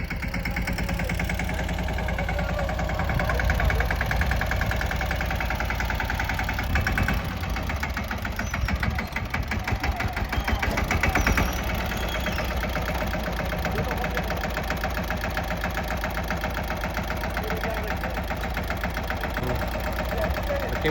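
A farm tractor's diesel engine idles steadily near a field, a continuous chugging rumble with a fast knocking beat that stays loud and even throughout.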